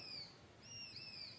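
Thin, high-pitched whistling calls of a hawk, two drawn-out cries faint and distant over a soft background hush.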